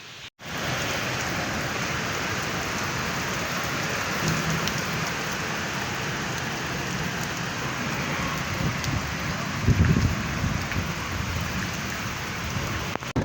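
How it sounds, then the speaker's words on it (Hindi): Heavy rain pours down with strong wind, making a dense, steady roar that holds for the whole stretch. A brief louder surge comes partway through, and no voices are heard. "बहुत तेज़ बारिश है यार।"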